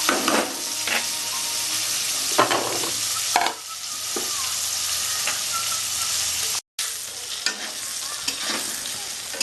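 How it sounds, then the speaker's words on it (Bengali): Eggplant pieces fry in hot oil in a pan, giving a loud, continuous sizzle close by, broken by a few scraping stirs and one brief dropout, with no talking. "বেগুনগুলো লাল লাল করে ভেজে নিয়েছি"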